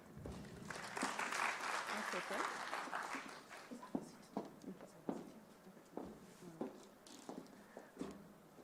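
Conference audience at a water and sanitation event claps after a speaker finishes, a dense burst of applause at first that thins into scattered individual claps and fades, heard faintly with some room noise.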